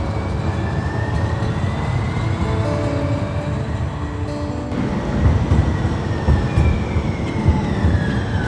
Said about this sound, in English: The sounds of once idle streetcars now carry San Franciscans to places not so long ago abandoned out of pandemic concern.